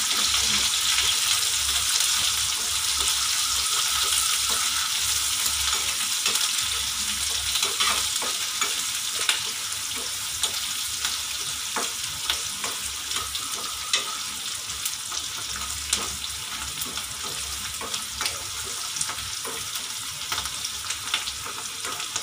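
Onion frying in a pan for a soya chilli dish, a steady bright sizzle that runs throughout with small crackles and faint scraping as it is stirred.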